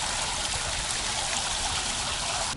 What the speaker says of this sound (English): The sound of bubbling water, it's so peaceful.